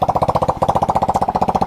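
A small Yamoto 70cc ATV engine with a faulty exhaust runs steadily at close range, its rapid, even putter pulsing with a rough, buzzy exhaust note throughout.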